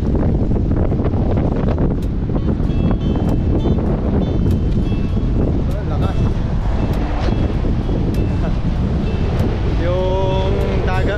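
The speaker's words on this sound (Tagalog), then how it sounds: "Ang lakas po ng hangin." Strong wind buffets the microphone in a constant loud rumble beside a river, with water lapping underneath and a voice speaking briefly near the end.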